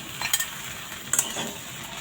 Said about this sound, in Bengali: এখন হালকাভাবে আলতু হাতে ভেন্ডিগুলির সাথে ভেজে নেব